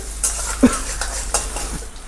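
Chopped vegetables tipped into a pan of softened frying onions, giving a soft sizzle with stirring and clinks of a utensil against the pan, close by.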